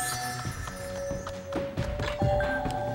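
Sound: beam pushed into place in Skylanders: Spyro's Adventure video game

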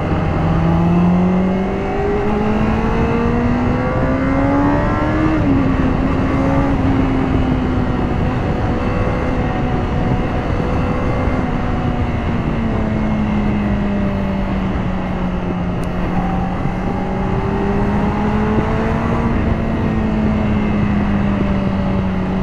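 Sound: 2018 Honda CBR600RR motorcycle engine revving high

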